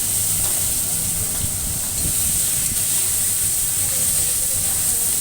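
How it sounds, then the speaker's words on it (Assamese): Potatoes coated in salt and turmeric fry in hot oil in a kadai, giving a steady, loud hiss and sizzle with a faint low rumble underneath. "এতিয়া মই আলু ভাজিম।"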